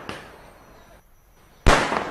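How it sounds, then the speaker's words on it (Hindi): Firecrackers going off outdoors at a political celebration in Gurugram: a sharp crack at the start, then a louder, closer burst near the end. "पटाखे फोड़ते हुए नजर आ रहे हैं"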